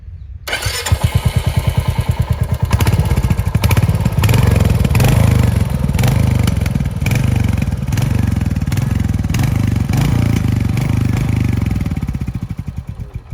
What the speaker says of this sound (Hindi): तो आपने सुना होगा इसका एग्जॉस्ट, आपने सुना होगा कि इतना छोटा एग्जॉस्ट, छोटा वॉल्यूम दिया गया है